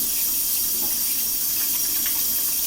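A kitchen tap runs steadily while hands are washed under it before cooking, a loud, continuous hiss of water splashing into a sink with no talking.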